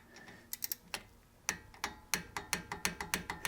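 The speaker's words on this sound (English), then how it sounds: "This is a 3/8 click type torque wrench." A 3/8-inch click-type torque wrench works a front brake caliper bolt on a Hyundai Santa Fe, giving a run of crisp, close, evenly paced ratcheting clicks after a few scattered taps.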